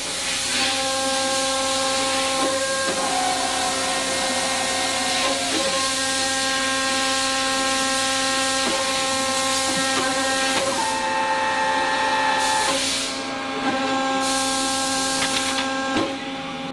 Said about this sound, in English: the machine will form in the automatic cycle